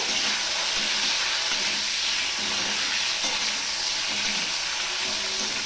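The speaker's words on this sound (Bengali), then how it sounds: "সবার প্রথমে আমি বেগুনটা ভেজে নেব, হালকা করেই ভেজে নেব।" Eggplant pieces fry lightly in a pan, giving off a loud, steady sizzling hiss that holds evenly from start to finish with no voices.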